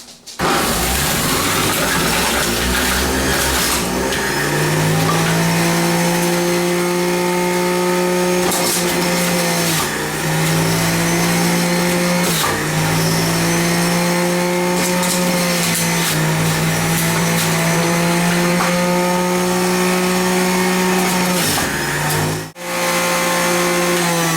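A motorized juicer grinds through carrots with a steady loud whine whose pitch dips and recovers as chunks are fed in, running continuously for over twenty seconds.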